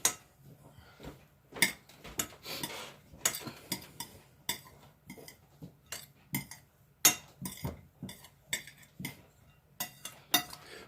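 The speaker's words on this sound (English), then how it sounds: "And now we'll just stir this around." A utensil stirs garlic and onion powder into sausage hash in a pan, making a close, irregular series of scraping clinks and taps against the metal over a quiet background.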